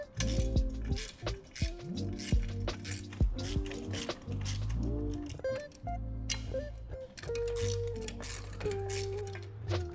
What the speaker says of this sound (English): I'm going to go ahead and tighten the hardware on this.